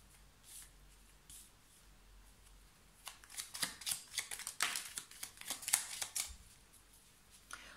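Tarot cards laid out and covered during a reading, heard as a short burst of close, soft shuffling, sliding and tapping of cards after a few quiet seconds, fairly faint overall.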